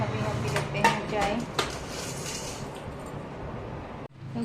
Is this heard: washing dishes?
yes